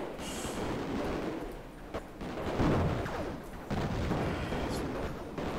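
Explosions from a bomb dropped in the shoot-'em-up game Raptor: Call of the Shadows, a loud, continuous rumbling barrage with a few sharper bursts, heavy and dense throughout with no talk.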